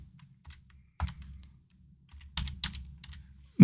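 A computer keyboard being typed on to enter a folder name in Photoshop, with a few quick bursts of close, crisp keystrokes separated by short pauses and a faint low background hum.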